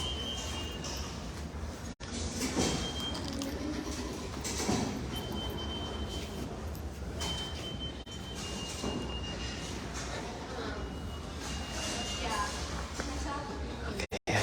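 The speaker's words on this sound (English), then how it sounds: "So now we're just waiting for the subway." A New York City subway train rumbles into an underground station, a steady low roar with faint squeals and brief clanks, heard close with people talking nearby.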